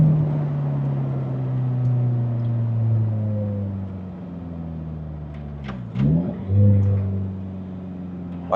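Lotus Elise sports car engine drones steadily from inside the cabin, pitch sliding down as it slows, then a brief shift and rise as it pulls away again.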